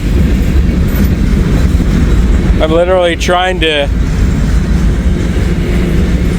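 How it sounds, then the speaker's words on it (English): Railroad cars roll past in a steady, loud rumble that fills the scene, with someone talking briefly over the continuous train noise. "these trains just keep on rolling"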